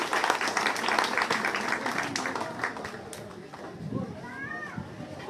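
Village crowd in Baghdu near Gohana clapping to welcome a visitor, brisk overlapping applause that fades after a few seconds into chatter and voices.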